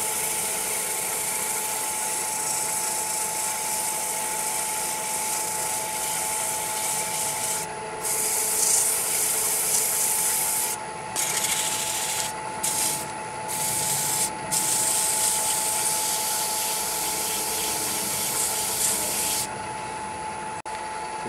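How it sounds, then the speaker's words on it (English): A wooden wine goblet spins on a lathe while sandpaper rubs against it, a steady close hiss of sanding with a few short pauses as the paper lifts off. "Bring the speed down a little bit so it sands better."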